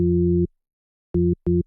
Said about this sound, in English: I'll show you with a sine wave. So you have the sine wave here.